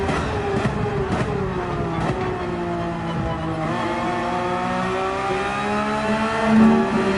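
A Porsche 911 GT3 race car in Gran Turismo 7 roars at full throttle, its engine note holding high and steady with brief dips at gear changes, loud and continuous throughout.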